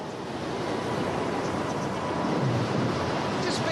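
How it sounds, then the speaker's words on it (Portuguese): Strong wind gusts at about 70 km per hour at an airport built over the sea, roaring steadily and loudly against the microphone with a broad, unbroken rush. "70 km por hora. É uma ventania."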